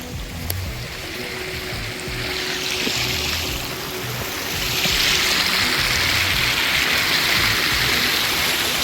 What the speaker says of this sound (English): So it's a lot of water flowing.